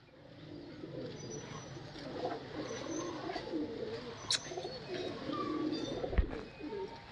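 A male pigeon coos in soft, repeated rolling calls, close and moderately quiet, against a murmur of background noise.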